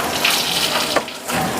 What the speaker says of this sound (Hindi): तो हमने भी प्लेट ले ली है, अब इसको अच्छे से यहाँ पर धोएंगे।